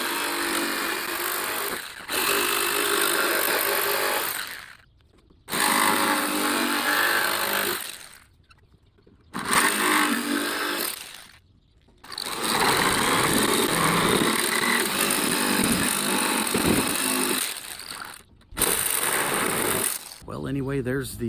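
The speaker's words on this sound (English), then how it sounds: "since I'm going to be using the jigsaw" Jigsaw roughing out the curved headstock of a fretless cigar box guitar, a loud, steady buzzing cut that runs in long stretches, broken by several short pauses between passes.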